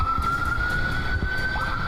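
An emergency vehicle siren holds a steady high tone for the whole moment, loud and close, over low traffic rumble.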